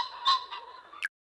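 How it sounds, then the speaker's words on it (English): A pheasant gives a single harsh, raspy call lasting about a second, close and fairly loud, ending in a brief sharp flourish before silence. "pheasant,"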